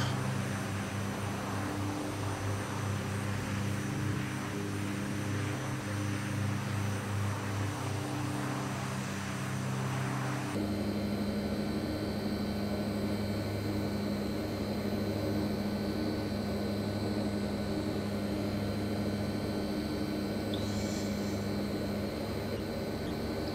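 A simulated HS748 turboprop airliner climbs out after takeoff, its engines a steady, continuous droning hum that holds throughout with a slight shift in tone midway.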